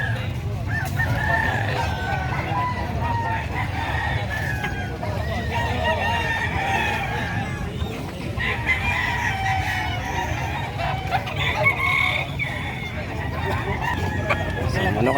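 Chickens and roosters at a livestock market in San Carlos City keep up a dense mix of loud crowing and clucking, with busy crowd noise and people talking underneath throughout.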